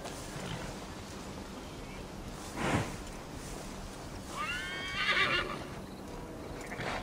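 A horse in the video game Assassin's Creed Valhalla gives one brief, loud, wavering whinny over a steady background of game ambience, with a short thud just before it.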